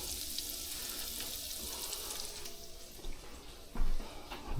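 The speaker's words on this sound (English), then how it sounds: "Just gonna let that garlic turn golden brown. I'm on about medium heat right now." Garlic fries in a pan over medium heat, giving a steady, close hissing sizzle with a few brief louder bursts near the end.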